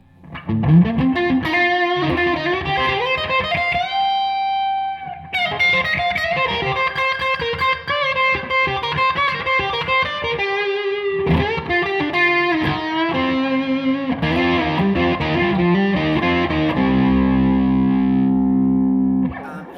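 A distorted electric guitar through a germanium Statesboro Bluesman overdrive pedal stacked with another overdrive plays thick, overdriven chords and sustained notes for a long stretch, with a gritty, saturated tone and some reverb.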